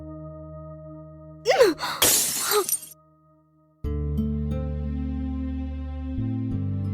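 Glass shatters in one sharp crash, with a second burst of smashing and tinkling shards, set between stretches of sustained background music.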